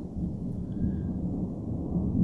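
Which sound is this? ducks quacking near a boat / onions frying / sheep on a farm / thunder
thunder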